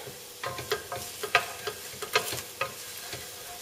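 Pumpkin and chickpea pieces for a rosemary winter soup fry in a pan and are stirred, giving soft sizzling with irregular scraping clicks and stirring knocks, close by and alone.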